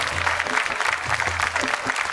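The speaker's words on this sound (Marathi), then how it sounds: "एकदा जोरदार टाळ्या सन मराठीसाठी झाल्या पाहिजे." A studio audience at the Sun Marathi show Sohala Sakhyancha applauds steadily, a dense, continuous wash of many hands clapping throughout.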